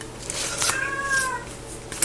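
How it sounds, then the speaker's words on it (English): A cat meows once, a clear rising-falling call in the middle, over faint background rustling near a woodworking project. "my cat's calling"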